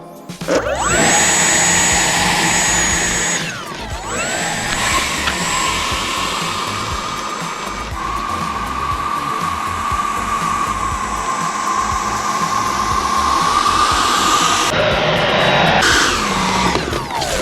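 A steady high-pitched electric whine from an outrunner electric ducted fan motor on a Flex Innovations F-100D model jet, with a rushing airflow roar, holding constant with slight pitch shifts, close and loud.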